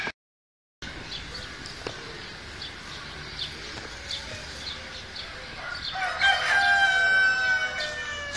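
Roosters in a large zoo pen crow repeatedly, with a loud, close call standing out near the end over a steady background of clucking and bird noise.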